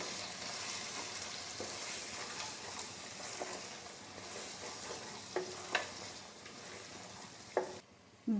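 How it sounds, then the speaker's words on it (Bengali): Ground chili, coriander, cumin and turmeric powders fry together in a pan for a cabbage curry with fish head, a soft, steady sizzle with a few scraping stirs and clinks near the end, quiet and alone. "দেড় মিনিট মশলাগুলো ভাজা হয়ে গেছে"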